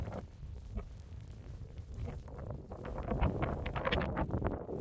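Gusty wind from Storm Isha buffets a wild camp in the Lake District, rumbling against the microphone and flapping in uneven bursts that grow stronger toward the end.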